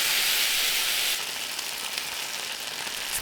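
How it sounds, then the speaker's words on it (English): Korean stir-fried beef, marinated with kiwi, sizzles steadily on a hot serving plate, a loud, close, hissing fry that softens a little after the first second and carries on without speech. "Place the hot plate on its base and put the Korean stir-fry beef on it."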